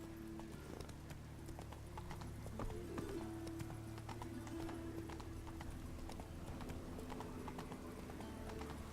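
Horse hooves clip-clopping steadily in The Witcher 3 as the mount trots along a city road, a continuous rhythmic thudding over a low ambient drone, with a brief whinny and no talk.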